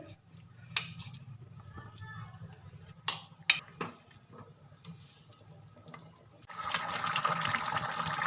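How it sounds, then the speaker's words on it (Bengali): Water pours into a pot of rui fish curry with potato and cauliflower, a steady splashing fill rising at the end after scattered clinks and taps, with someone speaking quietly over it. "আপনারা যেমন ঝোল খাবেন ঠিক সেইভাবে জল দেবেন"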